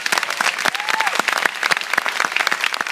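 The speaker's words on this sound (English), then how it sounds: "Please join me in giving them a warm round of applause." An audience at a Seattle film festival Q&A for Blackfish claps steadily, a close mix of individual sharp hand claps forming continuous applause, with a brief voice faintly underneath.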